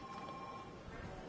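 A phone rings briefly and faintly inside a scene in Detroit: Become Human, a thin tone set over a busy background of music and room noise.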